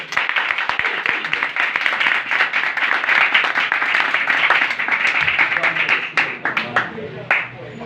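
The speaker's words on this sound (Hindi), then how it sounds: "एक बार जोरदार तालियां" Loud, sustained clapping from a church congregation fills the whole stretch, dense and steady, thinning slightly near the end.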